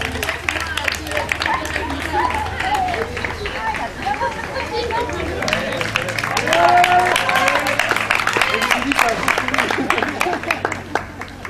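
Spectators at a 2015 triathlon in Roquebrune-Cap-Martin clapping and cheering for passing runners, scattered claps and crowd chatter alongside footsteps, with voices talking and calling out over it and the clapping growing denser midway.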